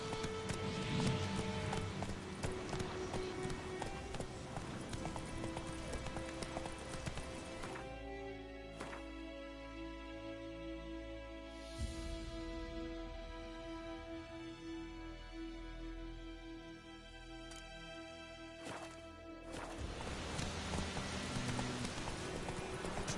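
Hooves of Roach, a horse in The Witcher 3 video game, clip-clop at a gallop in a steady rhythm, loud and close, with game music and ambience layered underneath throughout.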